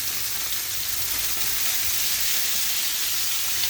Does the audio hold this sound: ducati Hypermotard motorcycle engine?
no